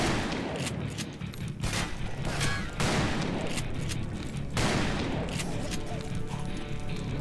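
Repeated gunfire from the Western shooter Call of Juarez: Bound in Blood, with sharp loud bursts arriving in irregular clusters over a dense, continuous layer of in-game noise.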